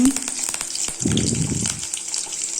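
Onion and curry leaves frying in hot oil in a pan, crackling sizzle with clinks of a spoon stirring and a brief louder burst of frying midway.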